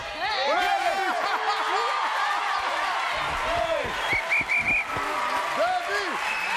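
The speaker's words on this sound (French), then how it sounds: "Applaudissements pour Francis Huster." Television studio audience applauds on a French game show, sustained clapping with cheers and whistles under an excited host's voice.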